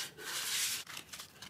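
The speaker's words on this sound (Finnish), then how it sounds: "Hio kappaleesta myös reunat ja päädyt." Hand sanding of a wooden workpiece with sandpaper wrapped on a sanding block, close and steady: bright scratchy rubbing strokes, one long pass followed by shorter, quieter strokes, with no voices.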